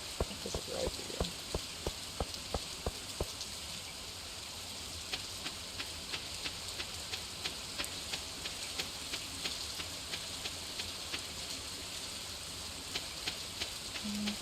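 Steady rain from Stardew Valley hisses continuously as a soft, even patter, with scattered faint clicks and taps from the game over it and no talk.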